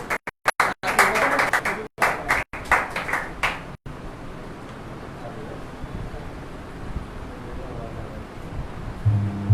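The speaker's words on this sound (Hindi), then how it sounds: "ये जोरदार तालियों के साथ में परमेश्वर का दास को हम स्वागत करेंगे।" A congregation at a Thursday healing service claps to welcome a preacher, with a burst of loud clapping broken by sharp gaps over the first four seconds, then a fainter, rougher wash of hall noise.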